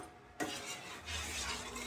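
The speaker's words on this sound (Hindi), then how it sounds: "मैं इसमें धीरे धीरे बाजरा डालूंगी। ये बाजरा मैंने कूट के रखा हुआ है" Pounded bajra millet poured into a pot for khichdi produces a sudden grainy rush followed by a soft, steady hissing patter of grains settling, close and fairly quiet, with no speech.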